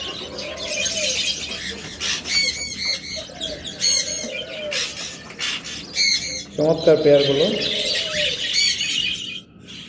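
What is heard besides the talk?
budgerigar parakeets with chicks calling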